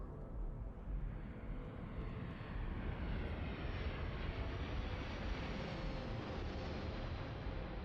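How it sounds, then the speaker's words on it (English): An airplane roars overhead near a landing port in the Starfield game, a steady, broad engine rumble that stays loud and continuous throughout with no talking. "I hear a plane."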